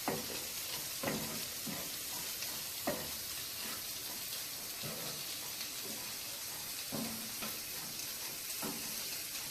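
Sausage fries in a pan with pepper while a utensil stirs it, giving a continuous sizzle broken by regular scraping strokes about every second, with no talking.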